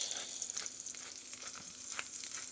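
Mushrooms frying and browning in a pan of oil, giving a steady, close crackling sizzle with scattered pops and no voices over it.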